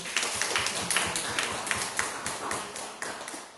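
A church congregation claps in dense, even applause that holds steady throughout, heard from a distance and fairly faint.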